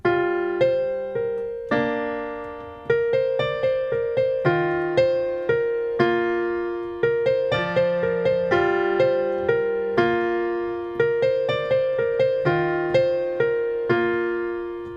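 Solo piano plays a gentle, unhurried melody with chords, each note ringing out and decaying before the next, clear and close.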